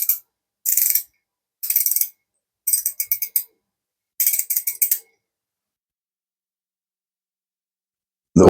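A Temu ratchet wrench ticking nearby in four quick bursts of sharp pawl clicks separated by brief pauses, followed by silence, with no speech.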